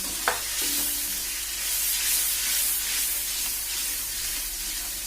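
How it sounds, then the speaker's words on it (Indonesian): Water, half a glass added to a cooking pan with chicken intestines for yellow rice, starts to boil with a steady sizzling, bubbling hiss and a brief clink of a utensil near the start, close and continuous. "kalau dia sudah mulai mendidih seperti ini"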